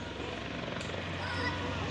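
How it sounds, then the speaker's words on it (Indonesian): A Eurocopter EC120 Colibri helicopter of the Indonesian Air Force flies overhead, its steady low rotor drone under a broad engine roar, continuous and fairly close. "Apache helikopter kolibri milik TNI AU"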